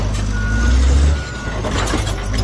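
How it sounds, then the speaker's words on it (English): A loader vehicle rumbles loudly with a heavy low engine drone, a thin steady reversing beep tone running through it alone with no talk. "Loader."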